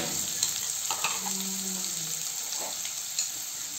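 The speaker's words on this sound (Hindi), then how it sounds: "सबको अच्छे से भून लेंगे।" Chopped onion, ginger and curry leaves fry in a pan with a steady close sizzle, broken by a few soft clicks and brief tonal scrapes as they are moved about.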